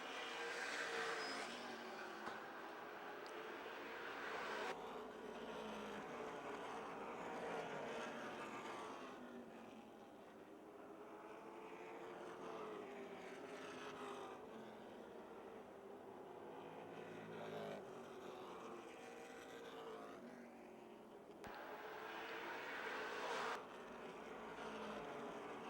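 Late model race cars circling Motordrome Speedway during the Napa 100, a steady blend of engine drone from several cars that swells and fades as the pack passes, with no voices.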